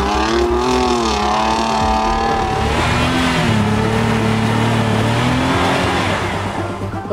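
Tank 300 SUV engine running loud and close as the vehicle drives, a steady droning hum whose pitch rises and falls with throttle, continuous throughout with no talk.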